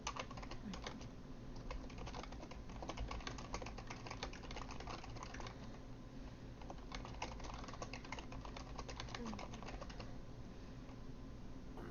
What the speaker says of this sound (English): I'm literally trying to fucking type